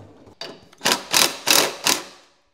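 A wrench works loose 9/16 bolts on the mower deck pulley of a Craftsman lawn tractor with a 46-inch deck, giving four sharp, close clicks in quick succession before fading to quiet.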